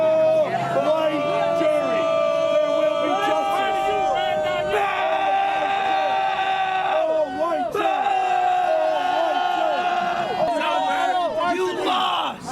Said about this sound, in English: tensions boiled over outside the courthouse yesterday with dueling crowds on both sides making their voices heard